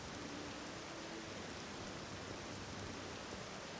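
Rain in OpenMW, the Morrowind engine, falling as a steady, even hiss of drops that runs unbroken throughout with no voices over it.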